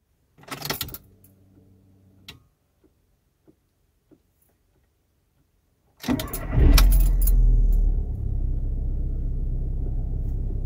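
A car's key jingles and clicks into the ignition, a few short sounds followed by a pause; then the engine cranks, catches and settles into a steady, loud idle close by.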